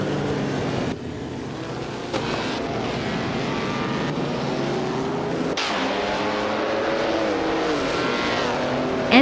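Race cars in a racing game roar past in a continuous engine whine with shifting pitch, overlapping cars closing in and overtaking, loud and sustained with no talk.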